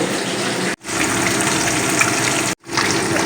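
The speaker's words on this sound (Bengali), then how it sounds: "বাকি যে মাছগুলো আছে ঠিক এই একইভাবেই ভেজে নেব" Pieces of katla fish fry in hot oil with a loud, continuous sizzling hiss, broken by two brief silences.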